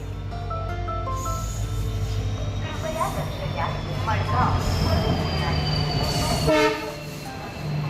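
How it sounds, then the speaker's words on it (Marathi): Mandovi Express train arriving at a station: a long, loud horn blast with layered tones over a deep rumble of the approaching locomotive, then the horn cuts off and the rumble continues, with voices on the platform. "दूरवर एक ट्रेन दिसते येताना आणि कदाचित मांडवी एक्सप्रेसच आहे ती."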